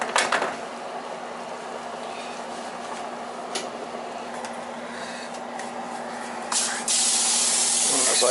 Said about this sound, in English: I'll put the pan spray in there so that they don't stick.